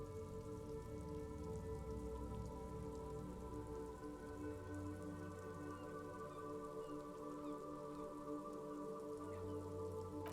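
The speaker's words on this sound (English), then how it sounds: "rain dripping off Eternite-covered roofs" Rain dripping off Eternite-covered roofs on an urban coastline in the video game Disco Elysium, a steady, dense patter of drops over a low droning hum, continuous and even throughout, with no voices.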